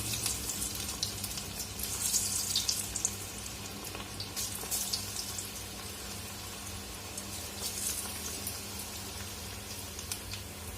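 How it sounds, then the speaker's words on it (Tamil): Cauliflower pieces frying in hot oil give a steady, dense crackling sizzle with bursts of sharper popping throughout, fairly close and continuous with no talking. "எண்ணெய் நல்லா காஞ்சிருச்சு பாருங்க. ஸோ காலிஃப்ளவர் ஒவ்வொன்றா எடுத்து போடுங்க."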